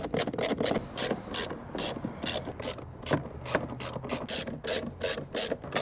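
Ratchet clicking in quick repeated bursts while tightening the air filter housing screws on a GMC Acadia, close and fairly quiet, with short pauses between runs of clicks; no talk.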